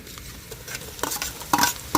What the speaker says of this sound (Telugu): ఇంకా ఉల్లిగడ్డలు, అల్లం, ఎల్లిపాయ కూడా ఎర్రగేదనమాట.